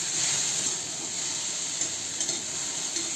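Okra stir-frying in an uncovered pan gives off a steady, close sizzle and hiss, broken by a few faint scraping stirs.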